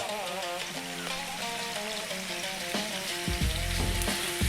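Mutton sears over medium heat in a stew pot seasoned with black pepper, a constant crackling sizzle with clinks and a louder burst near the end, no voices.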